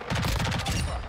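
The Lachmann Shroud in Modern Warfare II fires in burst mode: rapid, punchy rounds in quick clustered groups, loud and close with a heavy low thump, filling a brief second of gameplay.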